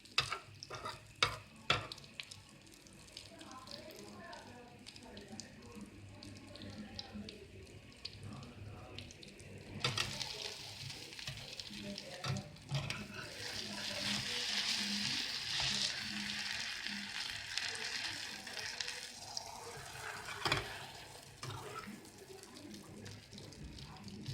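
A spicy omelette cooks undisturbed in a pan over low heat, a soft, steady sizzle that swells in the second half, with scattered clicks and knocks of kitchen handling.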